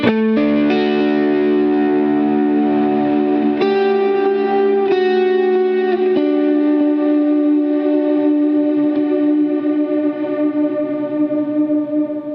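Guitar chords through a Line 6 POD Go ambient reverb pad effect ring into a lush, sustained wash that blurs into a smooth pad, each new strum blooming and lingering with long trails.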